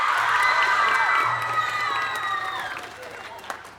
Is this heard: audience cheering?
yes